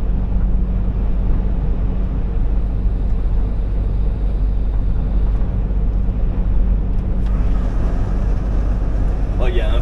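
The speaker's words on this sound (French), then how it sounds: "il y a un vent de malade aujourd'hui" Strong wind buffets the microphone outdoors in a steady, loud, low rumbling roar that continues throughout, with no clear speech over it.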